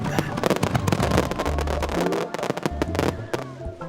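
Dense bursts of fireworks crackling and booming in quick succession, loud and continuous, with a few sharp pops standing out near the end.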